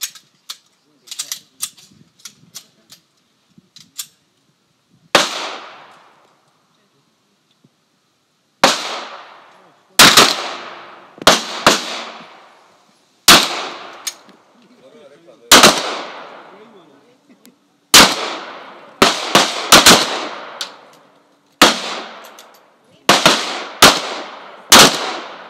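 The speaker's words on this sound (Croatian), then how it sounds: "pet komada, pucaj kad sprema!" Gunshots at an international precision shooting competition in Široki Brijeg: sharp, loud reports fire in irregular bursts and singles, each followed by a short echoing decay, with faint scattered pops early on.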